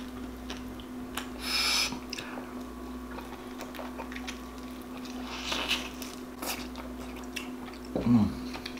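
Crunchy pork belly being bitten and chewed up close, with a few crisp crunches and wet chewing sounds over a steady background hum.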